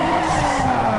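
Tires skid and squeal continuously as a car drifts in the racing video game Need for Speed Underground 2, a steady loud screech over engine roar with no voices.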